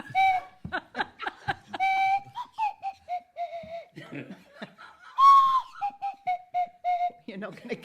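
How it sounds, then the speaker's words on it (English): A Swanee whistle plays a short tune in sliding, wavering notes during an end-of-year quiz, with chuckles and bits of talk in between. "on the Swanee whistle,"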